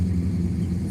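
A supercar's engine in the racing game Forza Horizon gives a loud, steady low rumble that holds constant throughout, with no talking.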